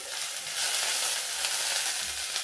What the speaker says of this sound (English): As soon as they splutter, as soon as they start splutter, I'm putting this garlic